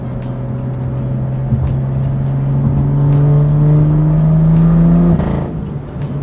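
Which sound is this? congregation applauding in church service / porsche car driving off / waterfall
porsche car driving off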